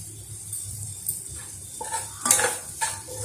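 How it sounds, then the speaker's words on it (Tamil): Pieces of cut idli go into a pan of sautéed onions and are stirred, with metal spoon scrapes and clinks against the pan over a low sizzle, a few sharper knocks coming toward the end. "இப்போ நம்ம கட் பண்ணி வச்சிருந்த இட்லியை வந்து இதில் சேர்த்துடலாம்"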